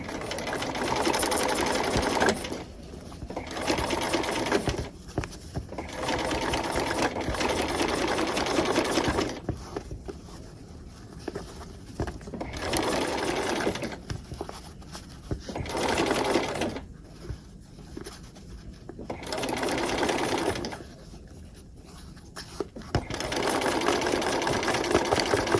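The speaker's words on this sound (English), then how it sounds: "we're going to sew down this line" Sewing machine stitching cord into trim, loud rapid mechanical chattering in several long runs separated by short quiet pauses.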